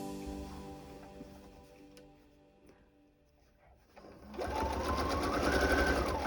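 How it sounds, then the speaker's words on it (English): A sewing machine stitches bias binding onto the front of a vintage quilt: a quieter stretch with faint mechanism clicks, then the machine speeds up into a steady, close, continuous whirring hum. "I am sewing it to the front because I am going to flip it and hand stitch it to the back."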